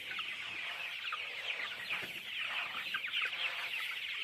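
A flock of chickens on a poultry farm clucks and chatters continuously, many birds overlapping in a dense, fairly faint barn chorus with no speech.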